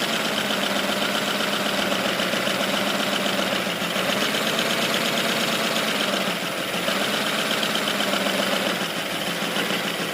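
A small 3D-printed turbocharged inline-six engine running for the first time, giving a steady, loud, continuous mechanical drone with a fast rattling pulse throughout, close to the mic and without voices.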